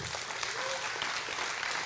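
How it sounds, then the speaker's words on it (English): An audience at a Rust and Ethereum tech event breaks into steady, dense applause, a sustained wash of clapping from a full room that holds evenly throughout. "let's give him a round of applause"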